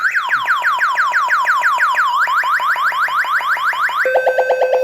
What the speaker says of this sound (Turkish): Daha sonra dokunma devam ederse alarm olarak ses çıkartıyor.